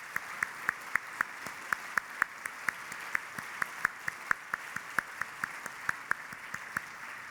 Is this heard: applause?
yes